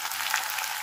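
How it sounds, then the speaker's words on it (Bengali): Pieces of pointed gourd (potol) sizzle in hot oil with a steady, crackling fry throughout, close and moderately loud with no voices. "পটলগুলো আমি অল্প করে ভাজবো"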